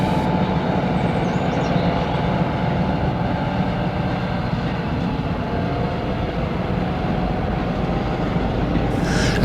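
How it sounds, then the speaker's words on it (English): A Class 40 diesel locomotive on a parcels train roars past with a sustained, heavy engine drone and rail rumble, steady and fairly loud throughout. "A Class 40 thundered south on a parcels train."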